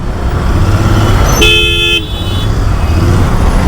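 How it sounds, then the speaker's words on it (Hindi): Dense morning road traffic rumbles loudly and continuously, and a single car horn toots for about half a second partway through. "और ये सुबह सुबह भर के ट्रैफिक।"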